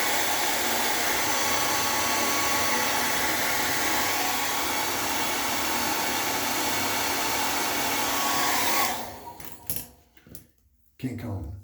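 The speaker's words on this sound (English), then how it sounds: "Let me get this straightened out with the blow dryer" A blow dryer roars steadily and loudly while straightening beard hair at home, holding a constant whoosh for about nine seconds before cutting off into brief clattering handling noises.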